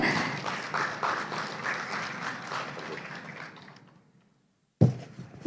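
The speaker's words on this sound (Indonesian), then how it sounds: "sekali lagi boleh kita berikan tepuk tangan yang hangat" Applause from the audience at the opening of the Indonesian Digital Library Conference in a hotel in Solo, fading gradually to silence before a short loud burst of clapping returns at the end.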